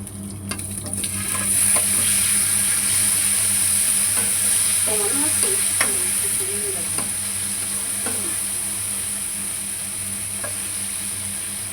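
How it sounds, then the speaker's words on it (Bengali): Hot oil sizzles loudly and steadily as dried red chilies, nigella seeds and garlic fry in a pan, a close continuous hiss with light stirring scrapes and a faint voice underneath. "শুকনো লঙ্কা দিলাম তারপর একটু কালো জিরে দিলাম এর মধ্যে রসুন দিলাম"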